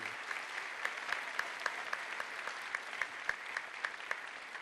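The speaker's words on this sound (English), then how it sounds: "And all give them a round of applause." Audience at a high school recognition ceremony applauding steadily, a dense even wash of clapping at moderate distance with a few sharper individual claps standing out, no voices over it.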